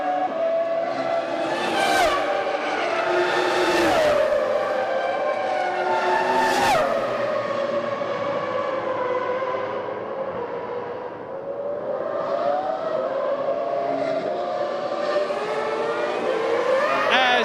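Formula One race cars, including a Ferrari, scream past at the 2000 Canadian Grand Prix, with several loud rising and falling high-revving passes over a steady engine drone in the distance.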